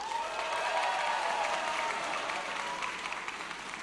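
Audience applause welcoming Bahlil Lahadalia at a political declaration rally, a dense, steady wash of many hands clapping that fills the hall without pause, loud and continuous throughout.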